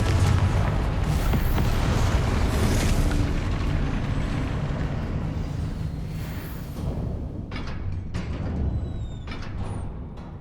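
A Confringo blasting-curse explosion from Hogwarts Legacy: a sustained, heavy rumbling roar with low boom, slowly fading over several seconds, then a few sharp crackles and bright magical chimes toward the end.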